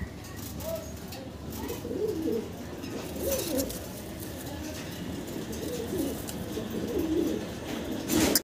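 A pair of white Danish pigeons coo softly and repeatedly, low throaty calls rising and falling over a steady background hum, heard at close range.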